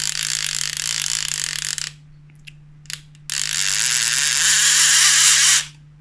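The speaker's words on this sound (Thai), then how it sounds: "เดี๋ยวเราไปดูว่า ระบบหน่วงเนี่ยเป็นยังไงกันครับ คลิกเสียงเนี่ย" A Pioneer Rexo 2024 baitcasting jigging reel clicks loudly and rapidly as its drag is turned, a dense close ratcheting buzz in two long bursts separated by a short pause with a couple of brief clicks.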